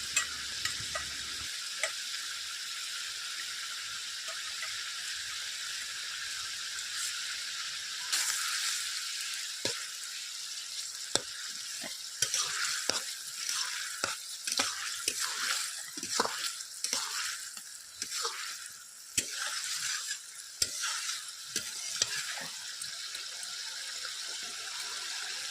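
Fish fries in a pan after cumin paste mixed with water is poured in, for a traditional Bengali lunch. After a short quiet start, a steady close sizzle runs throughout, broken by clinks and scrapes of stirring.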